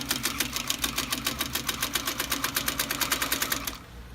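A CT-335A leather sewing machine driven by a servo motor runs at a steady fast stitching rhythm, its even mechanical clatter repeating for about three and a half seconds before stopping abruptly. The sound is close and loud.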